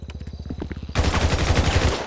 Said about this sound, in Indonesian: gasoline fire ini berarti nembak bensin coba lihat